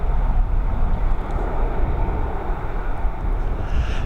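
An Airbus A321neo jet rumbles at Dublin Airport near runway 10R, a steady broadband engine roar holding loud and unbroken throughout with no voices.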